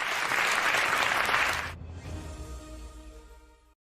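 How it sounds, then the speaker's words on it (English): An audience at a Rotary Institute event bursts into loud, dense applause that cuts off abruptly partway through, leaving soft room tone and faint low music or murmur behind. "a loud round of applause for convener, Rotary International Director Kamal Sanghvi and Sonal"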